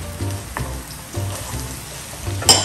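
Onions, beef and pork sizzle and sputter in a hot pan for Arroz Valenciana, with a low steady crackle and a few soft stirring scrapes close by.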